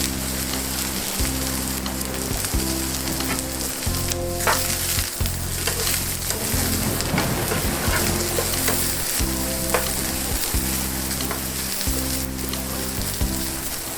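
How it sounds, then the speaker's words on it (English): Brussels sprouts fry in hot oil in a pan with a steady, loud sizzle and crackle, broken by repeated clattering thumps as they are stirred and turned, with no talking. "Turn over and fry for another 2 or 3 minutes."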